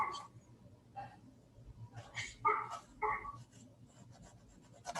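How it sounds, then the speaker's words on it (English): A large, heavy-sounding dog barks repeatedly somewhere outside, a series of muffled, uneven woofs over a low room hum. "I hope you guys aren't hearing that dog because I can't shut the dog off."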